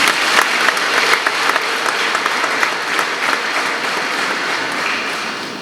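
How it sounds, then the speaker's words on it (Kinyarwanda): A church crowd at a Eucharistic procession in Gisenyi gives loud, sustained applause, dense clapping close by that fades slightly toward the end; any ululation is not clearly separable. "niba bamera amashyi n'impundu"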